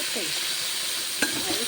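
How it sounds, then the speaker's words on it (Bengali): Boiled cauliflower frying in a pan gives a steady, close sizzle and hiss throughout, with one sharp clack partway through. "এবারে কিছুক্ষণ ভাজতে হবে এটাকে"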